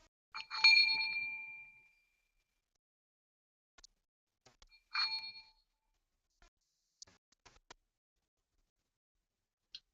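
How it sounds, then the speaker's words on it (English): Two metal singing bowls, each struck and shimmering with a bright sustained tone before fading, followed by scattered faint taps and clicks. "It's not a bell, it's a singing bowl"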